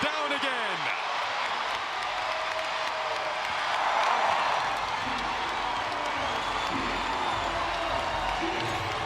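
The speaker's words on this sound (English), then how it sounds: "This crowd really alive now." A basketball arena crowd during a WNBA game between the Golden State Valkyries and Chicago Sky roars and cheers steadily, swelling mid-way, under a commentator's continuous talk.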